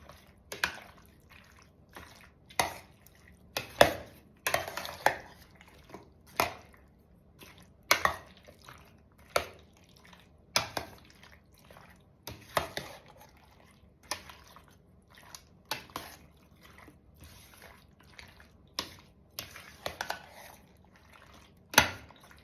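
Fruit salad being mixed in a bowl, giving a series of soft, wet squelches and drippy clicks at an uneven rhythm, close up and fairly quiet, with no talking.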